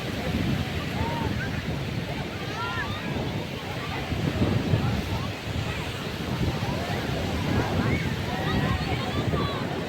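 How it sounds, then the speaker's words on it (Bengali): Big sea waves crash and roll continuously on Puri beach, a loud, dense surf roar with wind rushing across the microphone and faint voices and chirpy calls scattered in the background. "তোমরা দেখতে পাচ্ছ কি সাংঘাতিক ঢেউ দিচ্ছে।"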